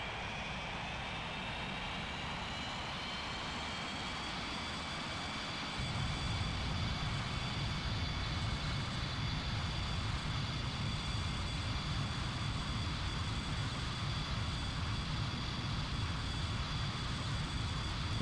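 A jet fighter in the Strike Fighters 2 game spools to full power for takeoff, a constant whining engine roar with a high steady tone that steps up in low rumble a few seconds in and holds.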